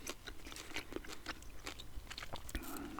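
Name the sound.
chewing Wrigley's chewing gum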